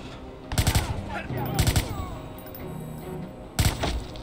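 Gunfire in the Watch Dogs game: three sharp, rapid bursts of shots, loud and close, separated by stretches of quieter combat background.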